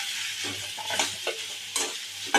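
Soya chunks stirred and frying in melted butter in a pan, a soft continuous sizzle broken by several scraping stirs, close and alone without talk.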